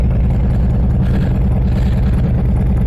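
An old Evo engine being broken in, rumbling loud and close at gently varying revs kept under 3,000 RPM, a steady heavy drone with no pauses.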